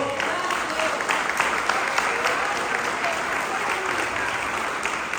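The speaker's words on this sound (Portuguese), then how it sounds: "você pode aplaudir o nome do Senhor?" A church congregation applauds together in steady, dense clapping that fills the room for several seconds, loud and close, with a voice faintly under it.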